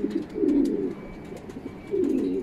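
Pigeons coo softly in low, rolling phrases as a racing pigeon arrives at its loft, two clear bursts with a pause between, fairly close, with light background noise and no talking.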